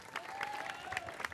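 A brief burst of audience applause at a public forum on Place de la Bastille in Paris, with moderately faint scattered clapping and a thin tonal hum running beneath it.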